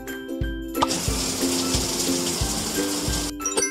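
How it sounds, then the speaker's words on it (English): Water gushes steadily into a bathtub in a baby care game, a continuous rushing flow that is fairly loud and close, with light game chimes and clicks around it. "Let's fill the tub."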